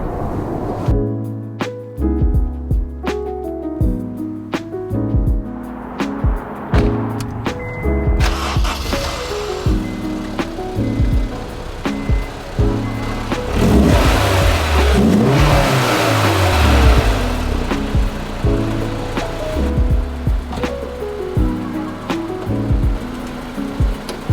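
A Honda S2000 roadster driven at night with the top down, its engine loudly revving and pulling through the gears as it accelerates, with pitch rising and dropping over and over and no one talking.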